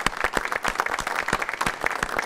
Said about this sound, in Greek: Νομίζω αξίζει να κλείσουμε με ένα χειροκρότημα για όλους για τον ωραίο δημοκρατικό διάλογο.